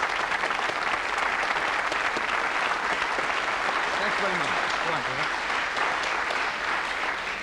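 A 1980s television studio audience keeps up full, even applause throughout while someone speaks briefly over the clapping.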